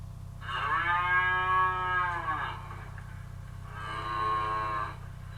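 A cow moos twice, a long drawn-out low call followed by a shorter one after a pause, over a steady low hum.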